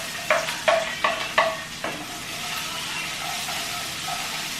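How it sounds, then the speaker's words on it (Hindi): Onions fry in a pan for poha, with several sharp scraping stirs of a spatula up front over a steady close sizzle that carries on alone. "तो अब यहाँ पे प्याज भून रही है"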